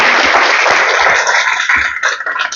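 A seminar audience gives loud, dense applause to welcome a lecturer, a steady wash of many clapping hands that starts to thin out near the end.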